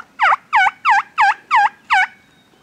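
Wild turkeys call during a Kansas turkey hunt, giving six evenly spaced, clear yelping notes in a quick row at moderate distance, with a quiet background.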